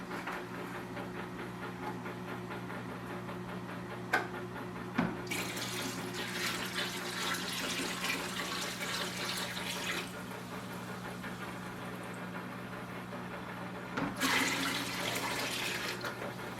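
Water runs steadily from a hose into a EVO 7000Z1 tank, with a louder gushing burst midway and another near the end over a low background hum.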